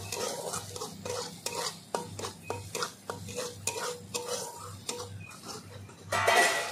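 A spoon repeatedly scrapes and knocks through ginger paste and chilli powder frying in a pan for a Bengali raw papaya and soybean curry. The strokes are close and evenly spaced over a faint sizzle, with a louder burst at the end.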